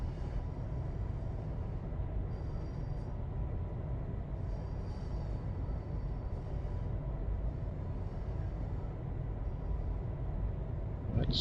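Steady rumble of a train running in a PS4 train simulator game, continuous and fairly loud with a low rolling drone and faint high squeals throughout, no voices.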